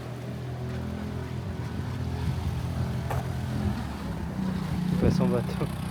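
A motorboat engine drones steadily nearby with a low hum off Milos, Greece, while people talk over it, the motor growing slightly louder toward the end.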